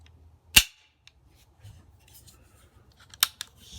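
A Timney two-stage competition trigger on an AR-15 rifle dry-fires with two sharp, loud clicks about two and a half seconds apart, each followed by a faint mechanical rattle in an otherwise quiet room.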